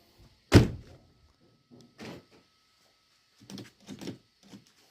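An Audi A6 C5 car door shuts with one firm, close thunk, followed by a few quieter clicks and soft mechanical knocks from the door lock.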